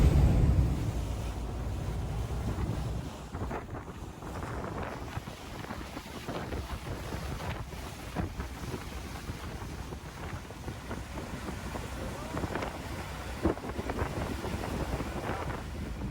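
A boat ride across open water to Cumberland Island, with a steady engine drone and rushing water under heavy wind buffeting the microphone, continuous and loud with no talking.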